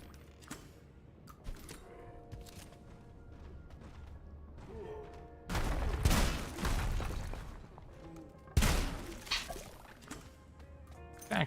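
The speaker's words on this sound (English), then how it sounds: "That grenade was supposed to blow you all to pieces and destroy my game's frame rate" A grenade detonates in the shooter SULFUR with two sharp, noisy bursts about three seconds apart. Each burst is followed by rumbling debris in otherwise quiet gameplay, with occasional creaks and drips.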